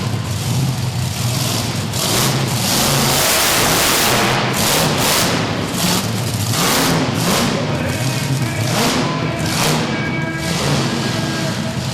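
Bigfoot monster truck engine roaring and revving during a freestyle run at a Monster X Tour event in Pikeville, Kentucky, a loud sustained drone with surging throttle bursts over heavy crowd and arena noise.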